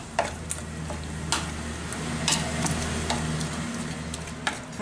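Beef mince filling seasoned with salt and pepper being stirred by hand, with soft scraping clicks and occasional sharper taps over a steady low hum, close and fairly quiet, no talking.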